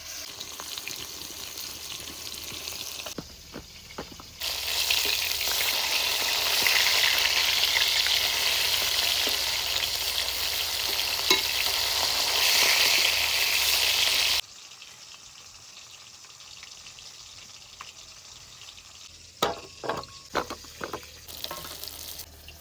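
Kalbaus river fish frying in hot oil in a kadai, a steady loud sizzle through the middle that drops away to quiet with scattered clinks and taps near the end.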